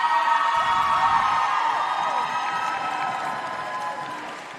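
Crowd of cheer teams at a competition cheering and applauding one another, a dense, loud wash of claps and shouts that gradually eases off, with no one speaking over it.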